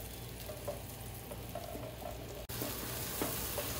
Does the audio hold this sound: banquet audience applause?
no